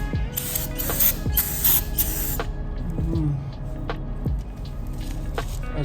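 Brake cleaner sprays from an aerosol can onto the wet wooden floor of a dry van trailer in loud hissing bursts, with clanks and shuffling between sprays.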